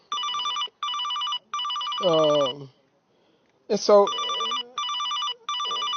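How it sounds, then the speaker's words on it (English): Landline-style telephone bell rings in repeated bursts, loud and close, pausing briefly while someone speaks over a gap, then ringing resumes under and after his voice. "I gotta wait for my phone to get to stop ringing so I can shut it down."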